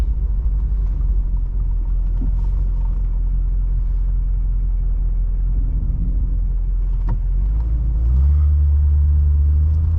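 A 1970 Mercedes-Benz 300SEL 6.3 idles with a deep, steady low rumble, loud and close, its tone thickening slightly near the end.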